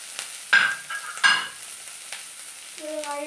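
Ingredients are sautéed in a pan: two sharp bursts of sizzle and spatula scraping over a quieter hiss, with a brief tonal ring near the end.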